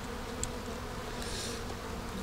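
Honeybees buzzing around an empty hive frame, a faint steady hum from a few insects close by with no voices.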